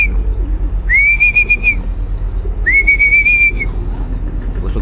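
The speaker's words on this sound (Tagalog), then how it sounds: "Hindi nila pinapansin yung sipol ko." Two sharp, sustained rising-then-level whistles, each about a second long and spaced apart, call to racing pigeons at a club training toss in Guiguinto, Bulacan, over a low steady background rumble.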